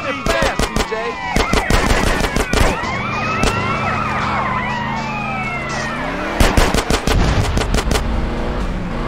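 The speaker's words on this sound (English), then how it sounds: "I'm shooting at the damn blur, CJ." Rapid bursts of video-game gunfire in GTA San Andreas during a drive-by, sharp repeated shots over a wailing police siren and engine noise, loud and close.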